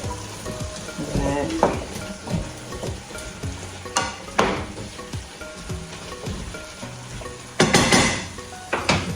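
Potatoes go into a hot pan for bistec ranchero: steady loud sizzling and frying, broken by scraping stirs and clanks of a utensil against the cookware, with no talking.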